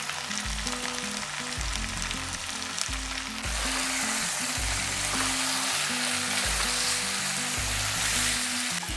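Vegetarian raw jackfruit curry frying in oil with spice paste, a steady close sizzle that runs without a break, with a low bubbling pulse underneath.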